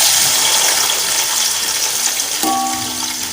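Chopped onions go into hot ghee for a Pakistani mixed vegetable curry and sizzle as a loud, continuous hiss that stays close and steady throughout, with no talking.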